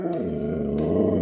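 A husky growls and vocalizes in a low, continuous rumbling grumble, close and loud, with a couple of brief higher yips breaking through.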